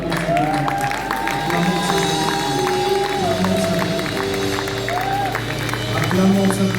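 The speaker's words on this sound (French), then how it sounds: "Ayons cette atmosphère d'acclamation pour que l'Éternel puisse prendre gloire." A church congregation cheers and acclaims God in a sustained mix of crowd shouting, clapping and joyful hubbub, with voices and ululating calls rising over steady applause throughout.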